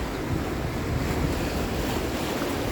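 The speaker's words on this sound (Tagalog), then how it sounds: "Malakas na yung alon dito." Strong ocean surf crashes and churns continuously at Aramoana, Dunedin, New Zealand, with heavy wind buffeting the microphone throughout.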